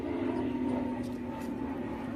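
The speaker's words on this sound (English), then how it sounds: "That plane's low." A low-flying airplane passes overhead near an industrial estate in Livingston, a steady droning hum heard faintly and continuously throughout.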